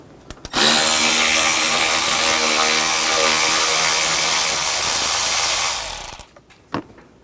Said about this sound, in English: Now take a 8mm socket and take this bolt out back here.